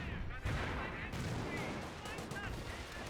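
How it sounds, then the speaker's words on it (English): Gunfire and explosive bursts from a Company of Heroes battle with Panzer Grenadiers, where incendiary grenades are thrown, form a dense, continuous wash of crackling combat noise. "Incendiary grenades being thrown."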